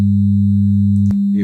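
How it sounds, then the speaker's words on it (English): Two synthesized sine tones at 100 Hz and 200 Hz sound together as a loud, steady, pure hum, holding unchanged for about a second before a brief click and a change at the end. "There's a 100 hertz tone, and you can see that lower frequency, and then there's a second piece generated by the 200 hertz tone"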